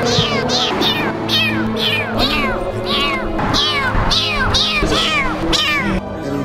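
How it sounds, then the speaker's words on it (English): A cat meows repeatedly on a Lebanese street at night, about ten clear, close meows in quick succession, loud and alone. "Found the kitty. Where's the kitty? Right here."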